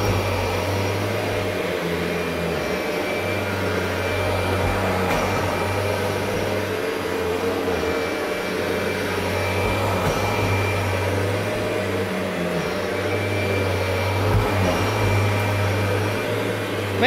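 A 1991 Kirby Generation 3 upright vacuum cleaner runs continuously on carpet, its steady motor drone and low hum filling the space at close range without any talking.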